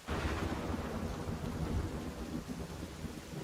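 Rain in the Sons of the Forest video game, a loud continuous wash of falling rain with a deep rolling thunder rumble beneath, no talk.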